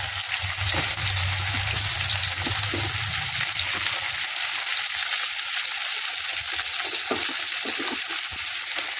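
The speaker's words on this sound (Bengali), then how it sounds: "তো পেঁয়াজটা ভেজে ভালো করে ফিরছি।" Onions fry in oil with cardamom, cinnamon, cloves and bay leaves as the base for mutton kosha, giving a steady, close sizzle throughout with occasional stirring and no talking.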